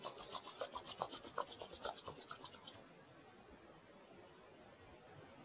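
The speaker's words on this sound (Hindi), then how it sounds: "आप दोनों हाथों को आपस में रगड़ लीजिए।" Two hands rubbed briskly together, a rhythmic rasping swish of about fifteen quick strokes over three seconds that fades off, then near silence with one tiny click.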